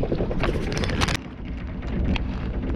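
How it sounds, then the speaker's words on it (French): A steady low boat engine drone runs throughout with broadband wind-like rush, loud and close, with a brief dip partway through. "là vous entendez le bruit du moteur"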